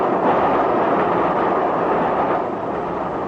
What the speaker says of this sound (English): I say, this is a good train, isn't it? Running right on the nose.